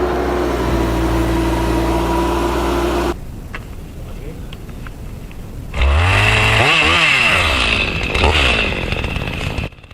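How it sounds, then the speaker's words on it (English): Johnsard 2045 chainsaw at work on a massive uprooted tree: a loud steady engine drone, a brief quieter idle, then the saw revs hard and bites in with screaming, fluctuating pitch, close up. "With the Johnsard 2045 chainsaw in hand, the operator steps in like a warrior. The saw screams to life"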